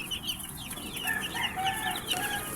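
Broiler chicks in a batch of one hundred cheeping in many quick, high, overlapping peeps, close and fairly soft, with no talk.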